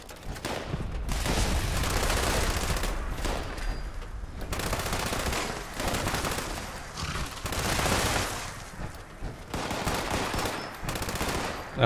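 Explosive light machine gun bursts in Fallout 76, several long sustained volleys of rapid fire separated by brief pauses, loud and dense with booming impacts.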